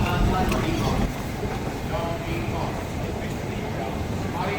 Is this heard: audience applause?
no